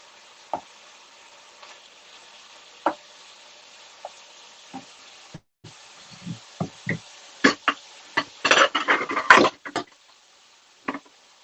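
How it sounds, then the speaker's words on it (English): Ground beef sizzles in a pan over medium heat while a wooden spoon scrapes and knocks, breaking it up. Sparse taps at first turn into busy, clattering stirring with a soft frying hiss underneath. "stir fry until it's brown, breaking it up with a wooden spoon, 6 to 8 minutes"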